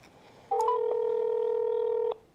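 Telephone tone pair sounding as a call is dialed, a single steady electronic beep lasting well over a second, clear and close over faint room noise.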